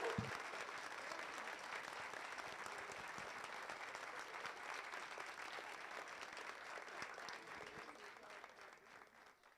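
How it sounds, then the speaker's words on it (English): Audience applause at a K9s For Warriors graduation ceremony in Ponte Vedra, Florida, honoring veterans and their service dogs; steady, dense clapping from a large crowd that runs throughout and slowly fades toward the end. "if we could please get a round of applause for our amazing veterans and their service dogs."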